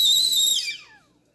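Teapot whistling as the water boils, a shrill high-pitched whistle that slides downward in pitch and fades away within about a second.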